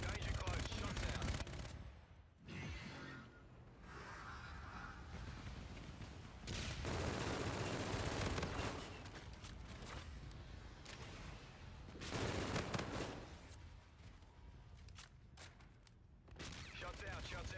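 Intense Call of Duty gunfire in a war-zone game match, with loud sustained automatic bursts and booming volleys filling the scene, broken by a few brief pauses, while a radio-style voice calls out over the shooting.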